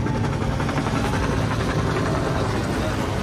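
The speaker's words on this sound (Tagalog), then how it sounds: "So helicopter, yun o" A helicopter flies overhead at a Toyota Vitz racing series event, its steady rotor chop a loud, continuous wash throughout, with voices talking over it.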